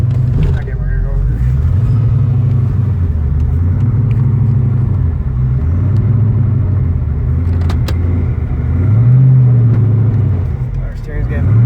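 A Foxbody car with a twin turbo GT35 kit drives slowly around the block, its engine giving a loud, steady low rumble with gentle rises and falls in pitch, heard from inside the car.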